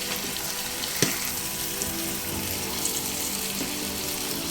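Taro greens, boiled chickpeas and prawns stirred in a pan over a medium-high flame: a steady close sizzle with a few sharp utensil clicks against the pan.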